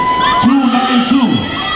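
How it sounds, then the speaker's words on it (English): A crowd at a Tahiti Fete dance competition cheers and whoops for solo dancers, loud, close and dense for under two seconds. "give yourselves a round of applause"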